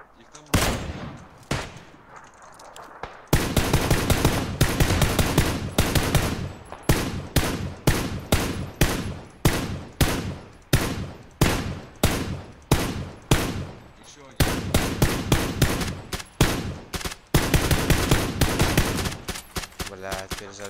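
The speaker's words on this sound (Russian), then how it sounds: "Там же где-то сейчас стреляют." PUBG gunfire in a first-person squad match: loud, rapid bursts of automatic shots fire almost continuously, broken only by short pauses, with players talking underneath.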